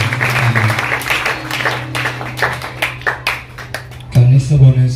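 A church congregation claps along in a lively burst of hand claps over a steady low hum and voices, with a louder voice rising near the end.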